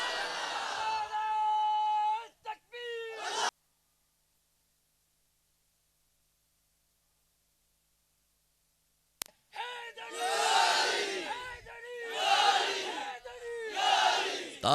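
A crowd at a religious gathering with a pir in Sadiq Abad shouts slogans loudly and in unison, a leader calling out and the mass answering in roaring bursts, with a long silent gap in the middle.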